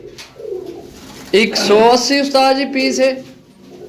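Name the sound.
pigeons cooing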